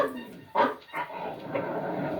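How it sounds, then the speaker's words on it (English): A dog barks as a sound effect in a 1941 radio drama, a couple of short, sharp yaps heard near the start, followed by a lingering room-toned murmur with a hint of a voice. "Where's that dog?"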